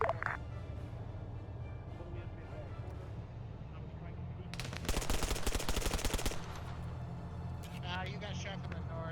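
Gunfire in the Arma 3 video game during a counterinsurgency operation on Bornholm: a dense burst of rapid shots crackles for about two seconds mid-clip, with further scattered fire nearby, while people talk over a constant low rumble.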